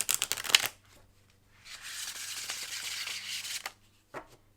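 A tarot card deck is shuffled by hand in two snappy riffling bursts, crisp and close, followed by a brief tap as the cards settle, with no talking.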